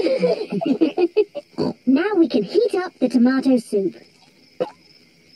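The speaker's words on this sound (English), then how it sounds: "That is the sound of crickets chirping." Cartoon crickets chirping at night beside a campfire, a steady high trill running under a character's continuous talk.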